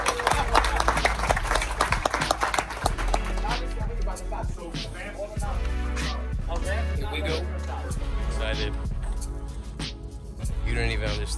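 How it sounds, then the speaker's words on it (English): A small group claps together at the end of a first track day session, with a brisk burst of claps mixed with talking voices and some low background rumble. "let's clap it up before we leave"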